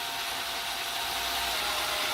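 A worn step drill bit cuts into a plastic sprayer container with a continuous loud, hissy grinding whir that stays steady throughout and has no speech over it.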